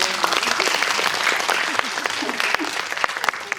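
An audience at a film talk event for Past Lives in a cinema hall claps warmly, a dense patter of many hands with crisp individual claps on top, and a voice speaks over part of it.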